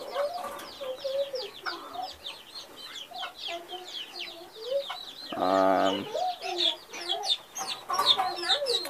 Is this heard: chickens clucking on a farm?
yes